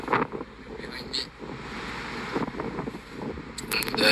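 Strong wind buffets a microphone at a shrine in Izumo, a continuous loud roaring rush with gusty swells and a few brief sharper bursts throughout.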